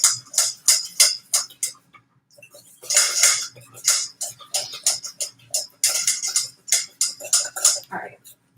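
Pumpkin, egg and peanut butter for homemade dog treats are whisked in a bowl, making quick, rhythmic metallic clinks in bursts, close up, with a short pause partway through.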